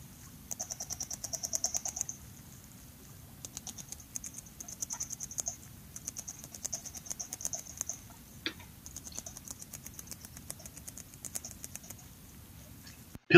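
Rapid, dry clicking and crunching like small teeth working at wood, coming in quick irregular bursts with brief pauses, close and fairly quiet.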